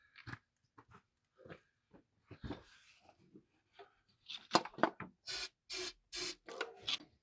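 Several short, bright spray bursts from a spray bottle used on a Ford F-150 during computer troubleshooting, the last four coming as a quick, even run of loud puffs after some softer scattered taps and handling noises.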